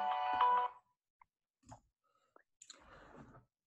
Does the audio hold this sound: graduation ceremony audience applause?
no